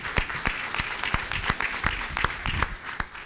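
A church congregation claps in dense, lively applause with sharp individual hand claps, loud and continuous throughout.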